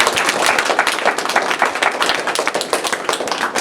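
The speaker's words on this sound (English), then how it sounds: "If we give him one more round of applause" Audience applause after someone shares a personal story at an inspirational talk, a dense, steady round of close clapping filling the whole stretch with no voices over it.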